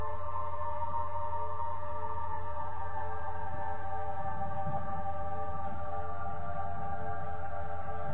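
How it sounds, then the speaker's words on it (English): A Nintendo GameCube console running nearby gives a steady mechanical hum with layered droning tones, constant and unbroken throughout, with no talking. "Sorry if you guys can hear my GameCube going, it's like, rah, rah, rah, rah, rah, rah."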